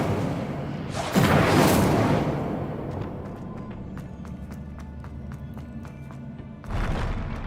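An Incendio fire spell cast in the Hogwarts video game bursts out as a loud whooshing blast, followed by a sustained crackling roar with scattered sharp ticks, and a second surge near the end.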